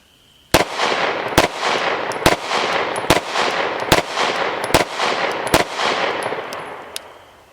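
Eight loud, sharp gunshots from a Springfield Armory Prodigy Compact DS 1911 pistol in 9mm with a shorter barrel, fired in a fairly even rapid string outdoors, each crack trailing into a long echoing decay.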